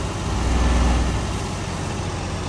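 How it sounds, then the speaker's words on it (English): Steady, loud rumble of a video game pickup truck engine that resembles a Ford F-150, a continuous low drone holding even throughout with no voices. "I don't know why this sounds like a Ford F-150"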